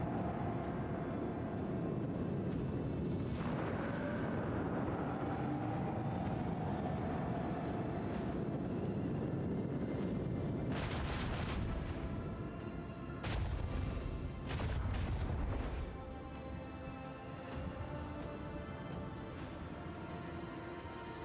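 Torpedo explosions in the Warhammer 40K game Rogue Trader: a dense, continuous rumble with several loud broadband blasts and crashes, the heaviest bursts clustered in the middle, with no talking over them.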